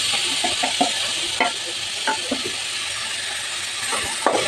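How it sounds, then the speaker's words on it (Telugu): Onions, tomato and green chillies frying together in a pan, giving a steady bright sizzle with a few soft stirring clicks and scrapes, close and continuous with no talking. "ఇవన్నీ కొంచెం వేయించేసుకోవాలి."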